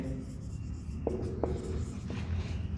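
Chalk or marker writing on a board during a class 12 differentiation maths lecture: soft scratchy strokes with a few brief taps, steady over a low room hum, no talking.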